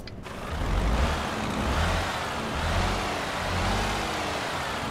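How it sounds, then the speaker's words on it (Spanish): An old bus engine idles and warms up in Euro Truck Simulator 2, a steady low rumble with slight swells in revs, close and continuous. "a calentar ese motor"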